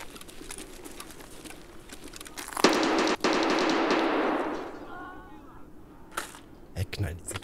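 Bursts of automatic machine gun fire in the video game Escape From Tarkov, a dense rattling volley of a couple of seconds followed by scattered distant shots, with someone talking faintly between them.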